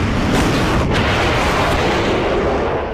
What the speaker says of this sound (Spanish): Una fuerte explosión